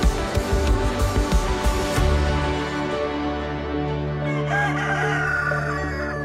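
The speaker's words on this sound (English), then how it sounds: "I just heard the rooster." A rooster crows loudly several times in short repeated bursts, set against steady droning background tones.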